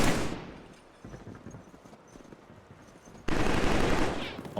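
Gunfire in the Killzone 3 video game, played with a gun controller: a loud burst at the start that drops to quieter, scattered shots, then a dense, sustained volley of rapid fire near the end.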